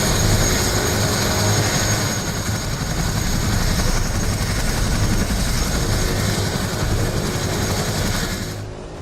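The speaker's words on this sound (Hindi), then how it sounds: "हेलीकॉप्टर से लोगों का रेस्क्यू हो रहा है।" A helicopter flies over a flash-flood disaster zone in the hills during a rescue operation, its rotor and engine a loud, continuous, close drone with a steady throb throughout and no voices.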